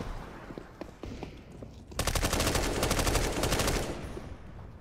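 MP5 submachine gun fire in the shooter game Counter-Strike: Global Offensive, a few scattered shots followed by a sustained rapid automatic burst of about two seconds, loud and close, then tapering off.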